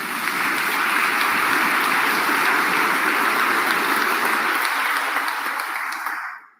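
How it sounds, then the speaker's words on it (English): Mourners at a funeral service break into dense, steady applause that holds at full strength, then fades quickly and stops near the end. "That deserves an applause"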